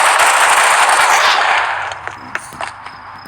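Video game gunfire, a loud rapid burst of automatic shots that runs as a continuous crackling volley, then tapers into a few scattered quieter shots and clicks.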